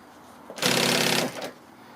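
A sewing machine runs a short continuous burst while stitching piping around a shaped corner, a steady close mechanical whir lasting under a second before stopping.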